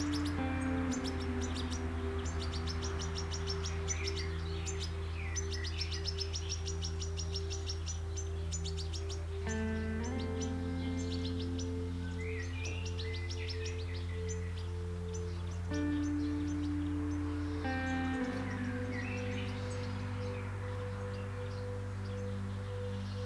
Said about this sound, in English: You can hear the green finches gathering and the goldfinches gathering.